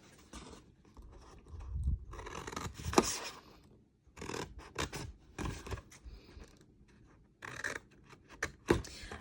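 Scissors snip and trim paper or cardstock corners while making a holiday treat holder, a series of close, crisp cutting bursts in uneven clusters separated by brief pauses, with no talking.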